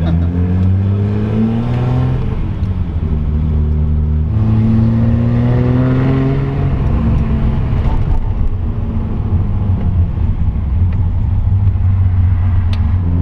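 Datsun 240Z engine revving up through the gears, its rising pitch sweeping upward twice, loud and close from inside the car with steady road noise underneath.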